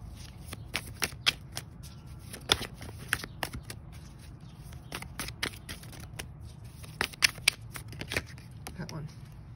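Tarot cards being shuffled, handled and drawn by hand, giving a steady run of soft papery riffles and sharp card snaps over a low background hum, close and fairly quiet.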